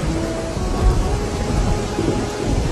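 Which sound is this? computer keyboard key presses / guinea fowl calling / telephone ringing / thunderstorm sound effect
thunderstorm sound effect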